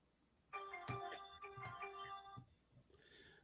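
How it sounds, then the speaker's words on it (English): Metal Gear Solid codec ringtone from the video game, playing from a phone as a steady stacked electronic tone for about two seconds with a few soft knocks underneath, then cutting off into quieter room noise. "my ringtone's the Kodak from Metal Gear Solid"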